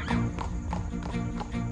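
Horses pull a chariot with a quick, even clip-clop of hooves on a hard surface. The beats are close and fairly loud, with busy sound layered underneath.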